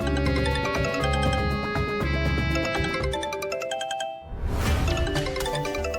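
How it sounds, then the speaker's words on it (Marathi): A phone rings in a home during a TV drama scene, a repeating melodic ringtone with busy tonal layers, loud and continuous, with a brief dip before it resumes. "फोन वाजतोय"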